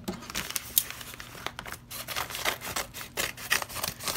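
Crinkly rustling and tearing as a mail package of Echo Park washi tape and AliExpress jewelry is opened, irregular bursts of close plastic and paper wrapping noise, with short pauses between handfuls.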